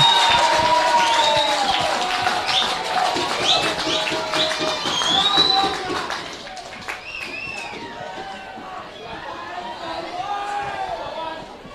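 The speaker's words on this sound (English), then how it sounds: "As you can hear the Patterson supporters giving their players a rousing reception." Paterson River supporters at a rugby league D Grade grand final against Gloucester cheer, whistle and clap for their players, a lively crowd din that eases slightly midway while a commentator talks over it.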